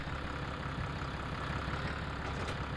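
A tractor engine idles in the video game Farming Simulator 25, a steady, even rumble with no change in pitch or loudness.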